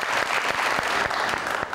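A studio audience on a television talk show applauds an artist, dense steady clapping from a crowd that lasts throughout.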